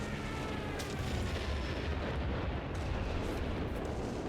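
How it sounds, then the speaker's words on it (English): Airstrike explosions boom in a Company of Heroes 3 winter battle, a dense, rumbling barrage of low blasts and overlapping impacts that rolls on continuously at a moderate level with no talk. "Looks like we had an airstrike"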